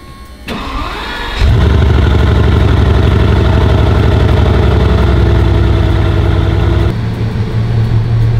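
A Bugatti engine cranks with a short whir, then fires up into a loud, close, steady idle with a deep rumble that settles slightly lower near the end, no talk.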